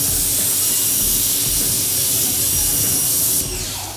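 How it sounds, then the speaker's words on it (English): Formula 4 drying aid sprayed onto a wet Mercedes GLE SUV, a loud, steady, close hiss that continues for several seconds and then tapers off slightly near the end. "you're gonna spray your Formula 4"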